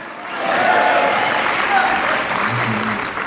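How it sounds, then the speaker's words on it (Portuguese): A church congregation applauds together, a dense, sustained wash of clapping with a voice speaking over it. "Dê um aplauso ao Senhor"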